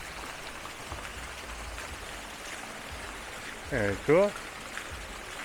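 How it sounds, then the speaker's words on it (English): Water features running along the Vancouver Seawall path, a steady splashing, trickling wash like rain or a stream that fills the whole scene at moderate level, with a brief spoken comment near the end. "And then just these nice water features."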